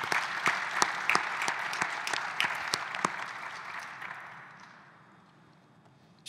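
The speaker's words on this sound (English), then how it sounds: "So let's have a round of applause for Spain for ensuring that continues." Audience applause at a climate crisis panel discussion, a crowd clapping loudly with a few sharp standout claps, then thinning and fading away over the last couple of seconds.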